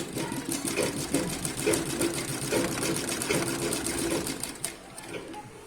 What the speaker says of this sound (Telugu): ఇట్లా ఎండింగ్ వరకు స్టిచ్ చేసుకోవాలి.